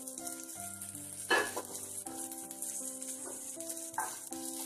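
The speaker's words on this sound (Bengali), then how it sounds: "এগুলোকে খুব ভালো করে ভেজে নিতে হবে" Chopped carrot, beans and chili frying in plain hot oil without salt, a steady close sizzle with a few brief stirring knocks, no one speaking.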